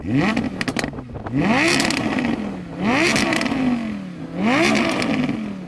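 An Audi R8 V10 sports car engine climbs sharply through the revs several times, with loud, rising wails and brief drops between pulls.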